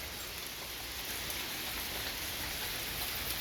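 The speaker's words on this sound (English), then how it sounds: "It's raining. It's coming down." Rain falls steadily at night onto surfaces near a porch, making a soft, even hiss with scattered drops, faint and continuous with no voices.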